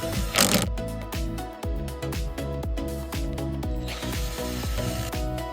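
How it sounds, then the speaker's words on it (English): A power driver sets screws into the timber frame of a small DIY wooden house roof, a close, loud, repetitive whirring and ratcheting in rapid pulses that runs steadily with brief shifts in pitch. "Now let's start with a few screws to secure the frame."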